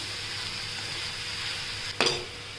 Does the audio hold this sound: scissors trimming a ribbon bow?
no